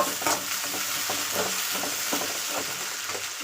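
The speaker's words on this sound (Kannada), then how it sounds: "ಇದನ್ನು ಸ್ವಲ್ಪ ಕೆಂಪಾಗೋ ತನಕ ಬೇಯಿಸ್ಕೊತೀವಿ." Tomatoes and green chillies sizzle and fry in a pan for uppittu, a steady close crackle with occasional stirring scrapes and no talking.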